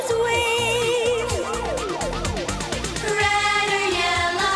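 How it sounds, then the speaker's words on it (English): Wailing fire truck siren sweeping up and down in repeated loud cycles, then shifting into a steadier high tone, set under a bright music track for a children's show about firefighters. "Red or yellow sirens blast."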